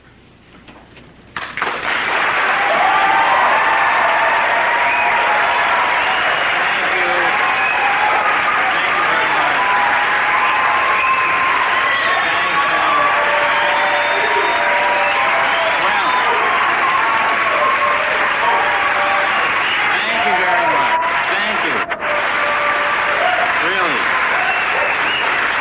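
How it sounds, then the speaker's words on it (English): A studio audience at a comedy show bursts into loud, sustained applause that starts abruptly and keeps up at full strength, a dense wash of clapping with scattered cheers. "Between you and me, I have no idea why they're applauding that much."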